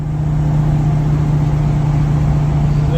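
A 2014 Sunstar 26HE motorhome drives at highway speed in fourth gear, heard from inside as a steady, loud low engine drone with road rumble and no gaps.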